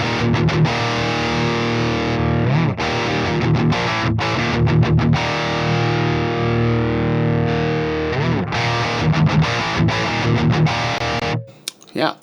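Heavily distorted electric guitar played through the Bogren Digital MLC Subzero 100 amp plugin at its default settings, with thick chugging chords and sustained notes throughout, then a brief stop and a short burst of noise at the end.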